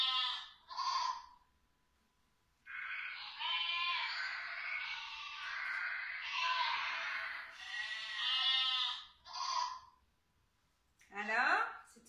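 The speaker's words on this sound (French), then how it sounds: "C'était le mouton." Sheep bleating out in a field, a series of loud, close, wavering calls, several short and a few long, separated by brief pauses.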